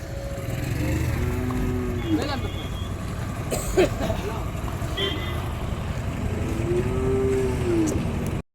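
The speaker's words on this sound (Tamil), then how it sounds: "இன்னைக்கு வந்திருக்கிற மாடு மொத்தம் பார்த்தாச்சு" Cattle low at the Vaniyambadi cattle market, two drawn-out moos rising over a steady rumble of engines and the crowd's murmur, with people talking nearby.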